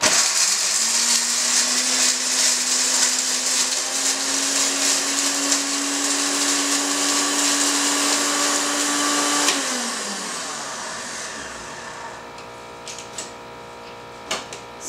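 An InnoMix Surya mixer grinder runs at speed 1 with a loud, steady motor whir and blade roar for about nine seconds, then spins down, leaving a few soft clicks in near-quiet.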